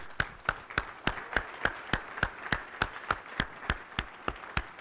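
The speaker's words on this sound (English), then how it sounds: "Just a round of applause." Slow, evenly spaced claps ring out at an awards ceremony honoring winners and finalists, a sparse rhythmic clapping in a reverberant hall, each clap distinct and moderately loud.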